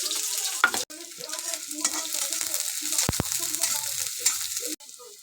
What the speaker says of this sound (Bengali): আমার পেঁয়াজ ভাজা হয়ে গিয়েছে।